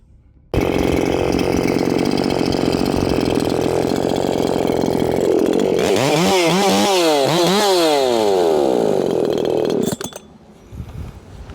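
Makita 6100 chainsaw with a tuned intake port and widened, raised exhaust, running loud and close at a steady high pitch, then revving up and down in several sweeps before cutting back to idle.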